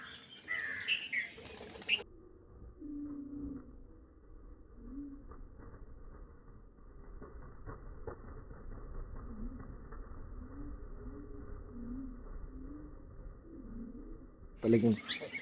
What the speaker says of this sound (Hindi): इनकी आवाज, इनकी उड़ने की पंखों की जो आवाज है वो भी बड़ी प्यारी लगती है।